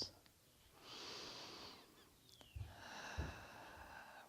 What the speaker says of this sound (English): Breathing deeply here.